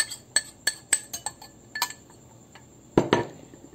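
Two spoonfuls of cornstarch go into room-temperature water in a bowl: a run of sharp, bright spoon clinks against the bowl, close and quick at first, then a pause and a final pair of louder knocks.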